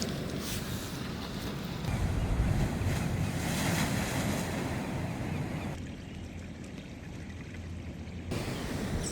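Sea water surges and splashes against coastal rocks, a continuous roar of surf with wind buffeting the microphone, swelling and easing over several seconds.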